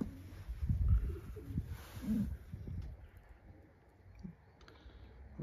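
A racing pigeon coos softly in a loft, giving low murmuring calls in the first few seconds along with faint rustling and clicks, with no speech.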